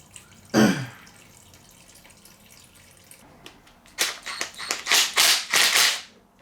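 Water flushing out of a salvaged lawn mower gas tank: a brief splash, then a quiet gap before a run of loud, close gurgling gushes and pours in uneven bursts.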